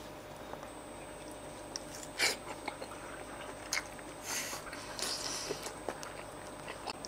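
Quiet, close chewing and biting on a skewer of Mexican pork, with soft squishy bites and a few sharper crunches at irregular intervals over a faint background.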